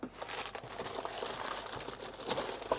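Plastic bag around an Amiga CD32 console crinkles continuously and up close, a soft, steady rustling and crackling that runs throughout at low level.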